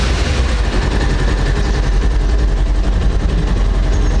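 A Bajaj Pulsar 220F motorcycle with about 40,000 km on it runs steadily close by, a loud, continuous low engine rumble with no pause or voices over it.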